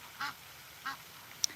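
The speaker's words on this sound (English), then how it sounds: "the ducks are quacking to agree." Ducks quacking outdoors, two separate short quacks about half a second apart, with a faint higher chirp at the end, all fairly soft and distant against quiet background.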